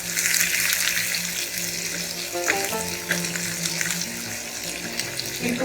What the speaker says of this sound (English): Now, in goes the thinly sliced onion.